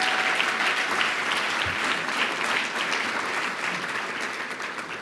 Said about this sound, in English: give MPAC a big round of applause as well tonight